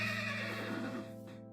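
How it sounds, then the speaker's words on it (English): A horse in Minecraft whinnies once, a loud, close, wavering neigh with harmonic pitch that rises and falls before cutting off sharply, with no talk over it. "I think I've angered this horse."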